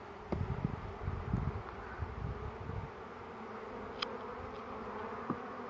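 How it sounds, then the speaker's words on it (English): Bees buzzing close by at a hive in the open: a steady, low, continuous hum with faint rustling, and a few soft thumps near the start. "So these are bees."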